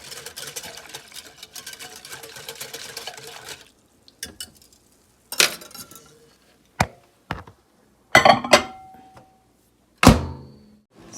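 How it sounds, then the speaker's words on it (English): Coconut cream pie filling stirred in a dish partway through microwave cooking: a steady scraping, sewing-machine-like rustle for several seconds, then a few separate clunks and knocks of the dish and utensil, fairly close and loud with no talk. "I'm going to stir it, and we're going to put it back in for about another 5 minutes."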